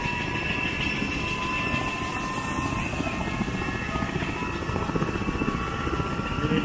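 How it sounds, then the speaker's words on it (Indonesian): A helicopter taking off roars steadily with a dense rotor whine and low rumble, loud and constant throughout, with no speech. "Dan ada helikopter mau take off."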